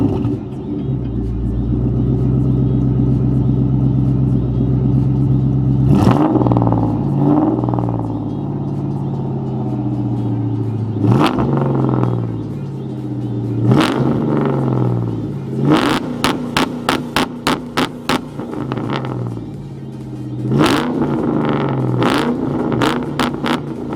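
A 2002 Corvette fitted with a Billy Boat exhaust idles with a deep, loud rumble close by, then revs up in sharp bursts, including a rapid series of quick throttle blips.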